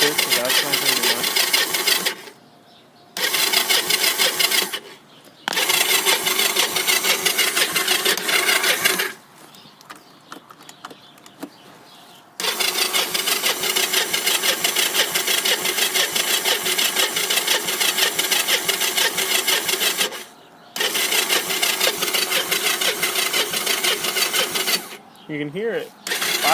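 A three-wheeler engine struggling to start in freezing weather after sitting unused for about two months, cranking in long loud grinding bursts separated by short pauses, with occasional catches as it tries to fire; a voice talks over parts of it.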